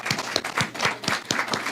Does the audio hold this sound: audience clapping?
yes